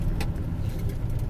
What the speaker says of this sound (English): I drive a Freightliner propane truck.